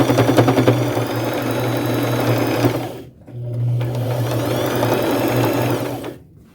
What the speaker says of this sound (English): stick it under my machine, forward and back, and I'm just going to use a 1/4 inch seam allowance and just cruise all the way down the side